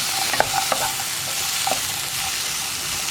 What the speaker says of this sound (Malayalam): ചുരക്ക ചേർത്ത് ഒന്ന് ഇളക്കി മിക്സ് ചെയ്തിട്ട്